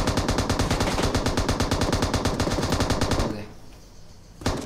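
Rapid automatic gunfire in a battle royale shooter game, a steady fast rattle of loud repeated shots for about three seconds, then a quieter lull and one last short burst near the end.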